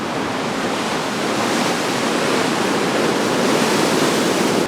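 Ocean surf crashes and splashes against the steep cliffs of Big Sur below a high drop, a steady, loud broadband roar of churning water with no voices.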